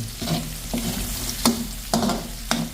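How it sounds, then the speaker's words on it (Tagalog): Meat frying in a hot pan before being added to mung beans, sizzling steadily, with several sharp scrapes and taps of a utensil stirring at irregular intervals. "Iprito natin yung karne"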